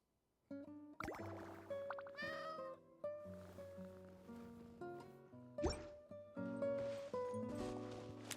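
A cat meows several times within the video game Genshin Impact, the short calls sitting over steady game music with chimes and tones throughout.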